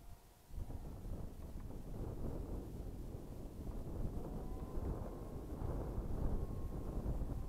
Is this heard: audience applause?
no